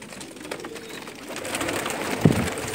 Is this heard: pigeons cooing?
yes